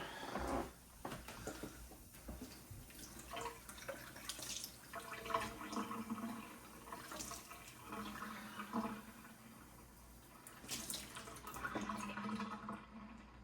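Beans rinse under running tap water for a rice and beans dish, with a faint, steady flow and splashing in a sink and shifting gurgles throughout.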